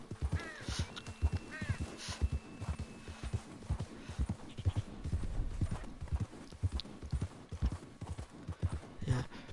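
Horse hooves clip-clop steadily in Red Dead Redemption 2, a rhythmic run of close, fairly loud hoof strikes with a short whinny near the start and a soft background hum.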